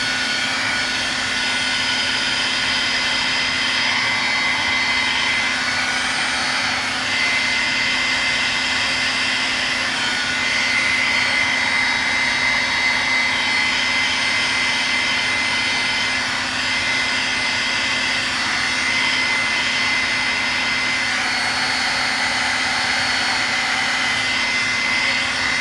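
A hair dryer runs steadily for the whole stretch, drying paint layers on a mixed media art journal cover, a loud continuous airy whoosh with a constant hum and no talking.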